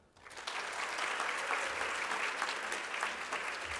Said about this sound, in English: let's give a big round of applause to Yolanda.